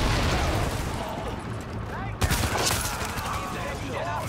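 Gunfire and a grenade blast in Tom Clancy's The Division during a co-op firefight, with dense continuous shooting throughout and a sharp explosive burst partway through, loud and close under a spoken voice.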